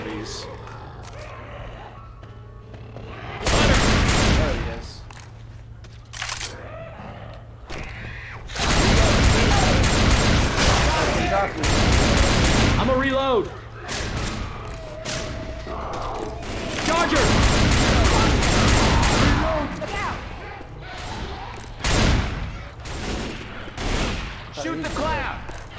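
Bursts of automatic gunfire from the zombie shooter game Left 4 Dead rattle loudly in repeated volleys of several seconds each, with players talking over and between the shots.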